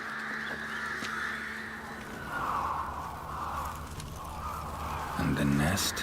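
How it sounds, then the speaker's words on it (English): Crows in the game Witcher 3 caw and squawk in a few harsh bursts, the loudest near the end, over a low ambient drone while a voice talks. "All the crows are up here."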